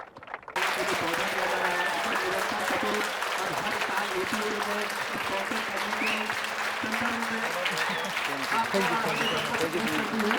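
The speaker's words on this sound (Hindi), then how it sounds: "जोरदार तालियां" Loud, sustained applause from a large gathering at BHU bursts in after a moment of quiet, with voices and a humming tone running beneath the dense clapping.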